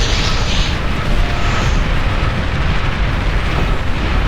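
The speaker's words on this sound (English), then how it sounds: "Or explosions, not missiles obviously" Explosions from the real-time strategy game Beyond All Reason, a thick, continuous rumbling roar of overlapping blasts that stays loud and dense throughout with no pauses.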